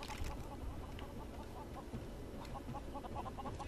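Chickens in the video game Lego Worlds cluck in short, quiet bursts over a steady background hum, several calls scattered across a few seconds.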